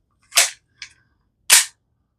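FN 510 pistol firing 10mm 180-grain CCI Blazer rounds at a range, three sharp shots with the middle one softer, spaced under a second apart, loud and close with no talk.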